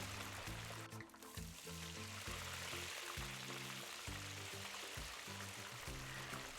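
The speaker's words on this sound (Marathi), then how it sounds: "कचोरीच्या भोवतालने छान तेलाचे बुडबुडे यायला लागले म्हणजे कचोरी आतून आणि बाहेरून हळूहळू फुलायला लागलेली आहे" Kachori deep-frying in hot oil, a steady bubbling sizzle running continuously at close range with a low rhythmic throb underneath and no voices.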